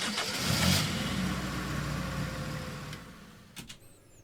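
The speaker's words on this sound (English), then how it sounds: "I just found like YouTube videos of the AE86 starting up, and I combined 3 of them together" Toyota AE86 engine starting up, with three recordings layered together: a car engine cranks, catches and revs loudly, then settles into a lower rumble with a short burst near the end.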